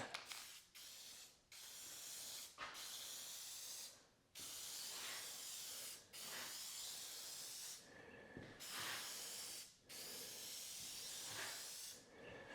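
An aerosol can of Gorilla contact cement sprays in a series of long hissing bursts separated by brief pauses, close and steady.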